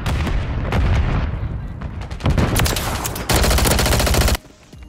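Rapid automatic gunfire rattles loud and close in a Call of Duty MW3 Search and Destroy match, with bursts intensifying midway before cutting off abruptly near the end.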